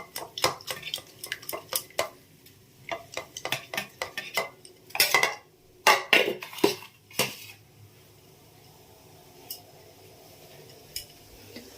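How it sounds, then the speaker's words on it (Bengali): Egg being beaten by hand in a bowl, a quick run of close, bright clinking and tapping strokes that grows busier in the middle and then thins out to a few scattered taps. "ডিমটা আমি ফেটিয়ে রাখছি, হাত দিয়েই আমি করছি"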